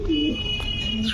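Lahori pigeons at a breeding farm give a couple of short, low cooing calls close by, with a faint high steady tone and light background noise.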